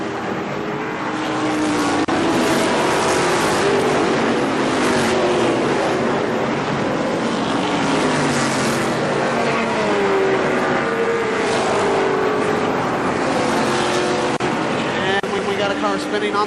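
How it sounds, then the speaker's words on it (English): ARCA SuperCars race around the Kil-Kare Speedway oval, loud engines roaring and droning continuously as cars pass close, with the pitch rising and falling through the pack. "Car spinning on the back straightaway."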